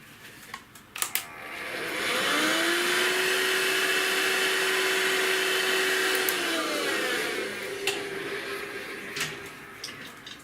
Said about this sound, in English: I need to vacuum